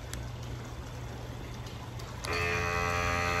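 Scotts lithium-ion battery-powered pump sprayer, zero technology, its motor kicking on after a steady low hum, settling into a loud continuous whirring drone up close.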